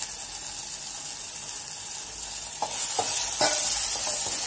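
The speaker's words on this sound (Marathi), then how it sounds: "आणि हे व्यवस्थित हलवून घ्यायचं" A spoon stirs turmeric and homemade black masala through hot oil in a pan, a constant close sizzle with a few soft scraping knocks toward the end, no voices.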